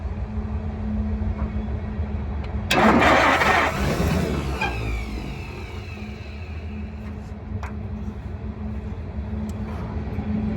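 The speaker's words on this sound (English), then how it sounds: "There's that dang starter again." A 1947 International KB-7 truck, revived after more than 50 years, has its starter grind loudly for about two seconds over a steady, rumbling engine drone that continues close by for the whole stretch.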